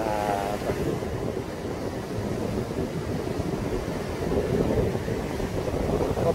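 Heavy surf and gusting wind roar continuously at Songjeong beach during a typhoon, a dense, unbroken wash of breaking waves buffeting the microphone.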